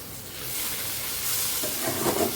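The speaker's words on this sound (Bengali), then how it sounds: "এটা ভাজিটা একটু লাল লাল করে ভাজিতে নিতে হবে" Taro (kochu) frying in a pan for a vegetarian kochur ghonto, a steady close sizzle and hiss with faint stirring scrapes toward the end.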